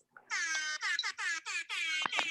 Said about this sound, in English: Air horn out.